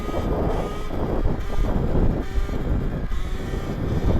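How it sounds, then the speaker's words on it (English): A Surron electric dirt bike is throttled up into a wheelie, its motor whine swelling and surging under heavy, steady wind rush close to the microphone. "we're just going to hit the throttle. Bike's going to come up"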